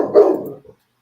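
A dog gives a single short, close bark followed by a faint little after-sound, then silence.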